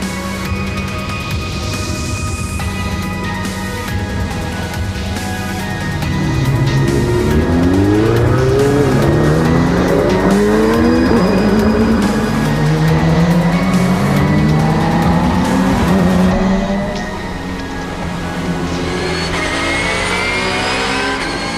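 Race cars at Magny-Cours rev loudly on the starting grid and pull away, engines rising and falling in overlapping sweeps, with the roar swelling midway and then easing as the pack moves off.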